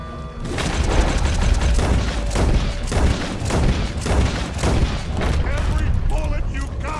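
Rapid volleys of gunfire and booming shots in a Red Dead Redemption 2 shootout during the Country Pursuits mission, loud and continuous throughout, with voices calling out over the din.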